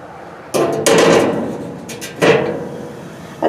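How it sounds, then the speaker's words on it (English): Metal grate lifted off a FlamePro charcoal grill, a few sharp metallic clanks and scrapes in quick succession, close and fairly loud, with a ringing clatter. "let me take one of the grates off"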